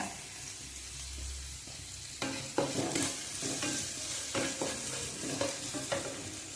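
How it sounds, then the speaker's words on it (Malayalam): Crushed ginger, curry leaves and green chilli sauté in hot oil, a quiet sizzle at first, then a spoon stirs in a run of close, rhythmic scraping strokes over the frying. "ഈ പച്ചമുളക് ഇത്രയും നന്നായിട്ട് നമുക്ക് വഴറ്റിയെടുക്കണം"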